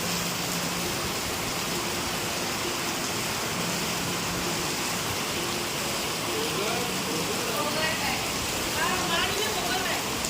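Heavy rain falls steadily, a dense, continuous hiss of drops pattering on surfaces throughout, with faint voices murmuring underneath.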